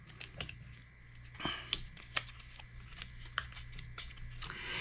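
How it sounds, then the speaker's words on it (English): A deck of cards from the board game Unmatched is shuffled by hand, giving close, soft riffling and flicking clicks in irregular bursts against a quiet room hum. "I'm going to shuffle this up."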